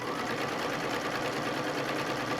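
A domestic sewing machine runs at a steady, continuous whir while stitching a quilt during ruler work, loud and close with no pauses.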